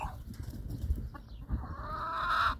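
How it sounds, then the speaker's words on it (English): Chickens cluck softly close up, with a few short calls rising into a longer clucking sequence at the end. "And a close up of the clucks."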